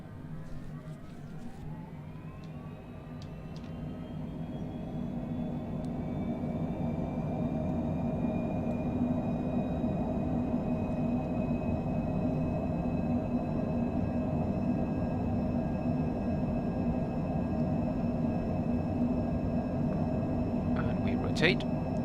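A Cessna Citation Longitude jet spools up for takeoff in a flight simulator, a steady engine roar whose whine rises and then holds, constant and moderately loud with no talk.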